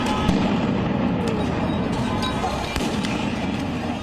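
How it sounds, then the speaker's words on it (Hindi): Flash-bang grenades explode during violent Los Angeles street protests, where police also fire tear gas and rubber bullets, giving several sharp bangs over a dense, constant roar of crowd and street noise. "आंसू गैस, रबर बुलेट और फ्लैश बैंग ग्रेनेड का इस्तेमाल हुआ, जिनके धमाके शहर में सुनाई पड़े"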